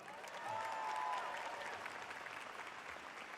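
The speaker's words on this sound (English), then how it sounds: "Please give him a better round of applause." A crowd at a high school graduation ceremony breaks into a round of applause, a soft, distant wash of many clapping hands that swells early, then settles into a steady, even patter, with a thin sustained tone faintly audible above it.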